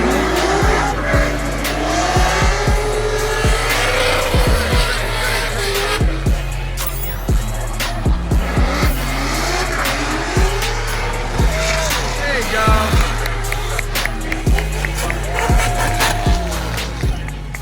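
A BMW E36 drift car on Federal tires at a Formula Drift event, with loud sustained tire squeal and a revving engine bouncing off the limiter throughout, under an excited commentator.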